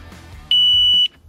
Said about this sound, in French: il suffit juste de l'insérer sur le disque, entendre un bip et verrouiller